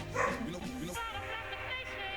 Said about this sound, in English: Dog. Hey, shut up!